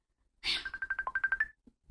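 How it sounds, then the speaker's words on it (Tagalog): A cellphone ringtone plays in a drama scene, a rapid repeating electronic melody of short, bright tones lasting about a second, loud and close, with no talking over it. "Kadiyot, bibagting ang akong cellphone."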